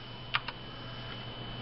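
A MaxKeyboard Nighthawk X8 keyboard gives two quick, close clacks as many keys are pressed together, followed by quiet room hiss.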